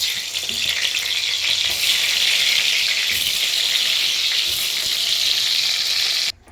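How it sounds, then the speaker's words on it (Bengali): Eggplant (brinjal) frying in oil in a pan gives a loud, steady, close sizzle that holds for several seconds and then cuts off abruptly. "এখন তো বেগুনটা ভাজি আগে।"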